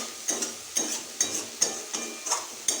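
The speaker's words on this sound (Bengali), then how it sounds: "নুনটা দিয়ে ভালো মতন মিক্স করে দিচ্ছি" Salt is stirred into a sizzling tomato spice mixture in a pan for fish curry, with about seven rhythmic spatula scrapes over a low, continuous fry, close and alone without talk.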